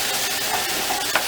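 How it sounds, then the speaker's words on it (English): A spoon stirs Jamaican gravy in a pot, a steady wet swishing with a faint sizzle underneath, close and continuous for a brief moment with no talk. "just give it a quick stir."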